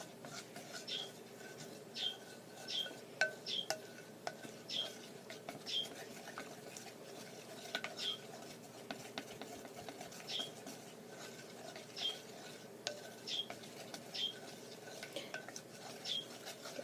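A popsicle stick stirring a soap mixture inside a Pringles can, soft repeated scraping and tapping strokes in an uneven rhythm, faint and close, with no talking.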